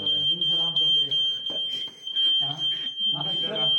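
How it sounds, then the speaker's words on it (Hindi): A smoke detector sounds a continuous high-pitched alarm tone at the front, and someone talks over it throughout. "अलार्म बज रहा है"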